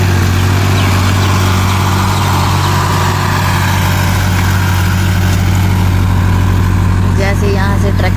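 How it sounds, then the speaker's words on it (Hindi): A tractor working a farm field runs with a loud, steady engine drone throughout, with a voice talking over it. "जैसे यहाँ से ट्रैक्टर जा रहा है"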